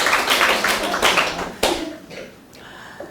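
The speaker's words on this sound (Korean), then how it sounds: "근데 박수를 다 쳐주시면 기분이 좋은데" Listeners at a lecture on modern funeral culture clap in a short, close burst of claps. The clapping thins out and dies away within a couple of seconds, leaving a few scattered taps and a quiet room.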